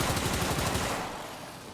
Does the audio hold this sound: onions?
no